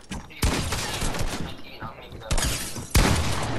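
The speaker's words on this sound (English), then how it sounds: "I hit him with my AR" Assault rifle fire in the battle-royale game Fortnite, several loud close bursts of rapid shots breaking in over a busy game background, with a voice speaking between them.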